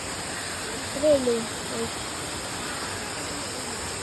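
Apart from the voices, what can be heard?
Irukki waterfall rushing water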